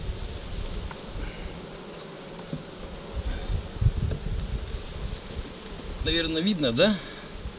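Honeybees from a caught swarm drone steadily around hive frames, close and moderate in volume, while someone talks intermittently over the buzzing.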